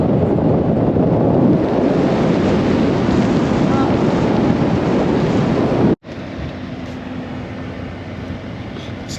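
Snowstorm wind outside an RV in Wyoming in winter: a loud, roaring gusty rush buffets the microphone for several seconds, then cuts abruptly to a quieter, muffled rumble as if moving indoors.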